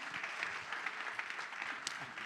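Audience at a national justice panel discussion applauds, a steady, moderately distant patter of many hands clapping that continues evenly for a couple of seconds.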